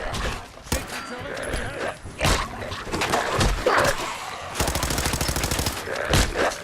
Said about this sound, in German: Ah, die schießt.